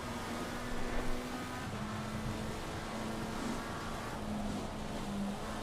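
A racing car engine in a sim racing game drones at steady partial throttle, a continuous mid-pitched hum with slight rises and dips, fairly quiet and distant.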